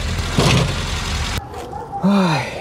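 Peugeot car engine idling close by, a steady mechanical rumble that cuts off partway, followed by a brief rising whine as it revs.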